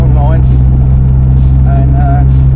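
A DeLorean drives along a road, its engine and tyre noise forming a loud, steady low drone from inside the car, with a person talking over it.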